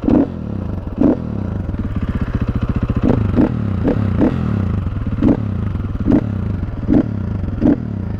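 A stock-exhaust 2014 KTM 450 EXC dirt bike engine idling with a steady throb, then revved in a series of sharp, loud blips with clattery mechanical noise, close up and with no talking.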